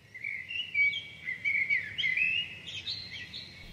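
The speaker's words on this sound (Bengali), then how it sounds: "ঘন জঙ্গলের ভিতর দিয়ে হাঁটলেই শোনা যায় নানা রকম পশু পাখির কলরব" Birds call in a dense forest in the Garo hills, with a string of bright chirps and twittering phrases, moderately near, over quiet background hiss.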